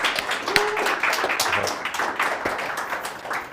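An audience at a tech meetup welcomes a speaker to the stage with applause: a sparse, close group of distinct claps at an uneven rhythm, fairly small in number and moderately loud.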